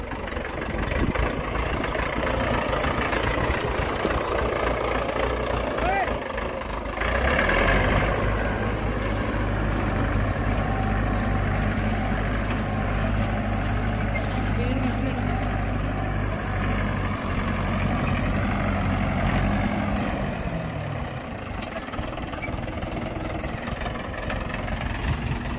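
A Mahindra 475 DI tractor fitted with wide front tyres idles with a steady rumbling throb, close and loud, its low tone settling midway and then easing off near the end.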